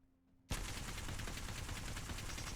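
L-Star energy weapon firing nonstop in the Apex Legends video game, a sudden burst of dense rapid automatic fire that starts after a brief quiet moment and stays loud and steady, no talking.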